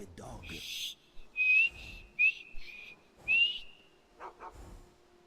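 Sharp, bright whistles sound in the Skyrim video game, three short high calls in quick succession to summon a dog, set among brief murmured voice sounds and faint background ambience.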